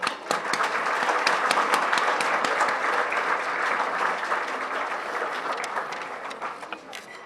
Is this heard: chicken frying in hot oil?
no